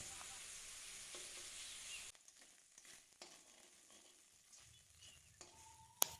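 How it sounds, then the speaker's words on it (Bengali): Vegetables such as beet, carrot and peas frying in a little oil with chicken, a loud hissing sizzle for the first two seconds, then quieter bubbling with scattered clatter and a sharp clink near the end. "চলো তাহলে এটাকে ভেজে নিই"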